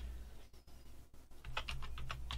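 Quick, light keystrokes on a computer keyboard while entering a 0.25 inch down cut end mill for a toolpath, faint at first, then a brisk run of close clicks.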